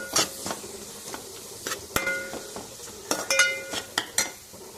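Ginger-garlic masala frying in a pan for Hyderabad restaurant-style egg dum biryani, stirred with a metal spoon: sharp clinks and scrapes against the pan come in irregular bursts over a low sizzle.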